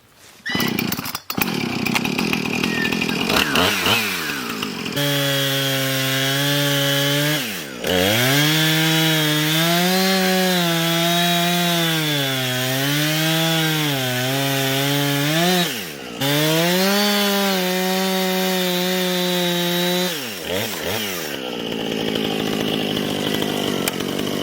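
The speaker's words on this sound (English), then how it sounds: "Let's go finish this off and see what our first fully chainsaw milled board looks like." A loud chainsaw roars steadily as it mills a board lengthwise from a log, its pitch rising and dipping with the load, pausing briefly twice before running on.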